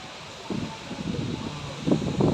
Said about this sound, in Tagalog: Na nakakusog ang hangin.